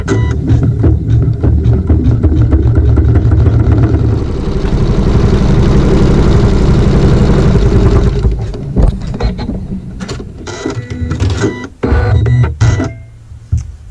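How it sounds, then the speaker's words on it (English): A sewing machine runs steadily while stitching a seam in quilting fabric, a loud continuous mechanical whir that stops after about eight seconds and gives way to scattered handling clicks and knocks. "the machine will stitch a seam"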